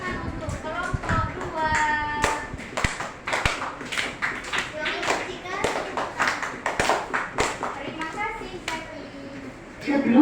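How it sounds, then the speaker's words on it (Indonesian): Children in a primary school classroom clap together in a rhythmic pattern during a science lesson, sharp close claps repeating in bursts with kids' voices and chatter mixed throughout. "beri tepuk tangan"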